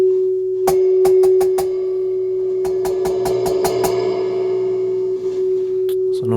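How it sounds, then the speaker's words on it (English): Reverb echo from a hybrid tube amplifier's reverb section under test, heard as two bursts of sharp, struck plucks with ringing tails decaying over a steady line hum, fairly close and loud. "You can hear that echo."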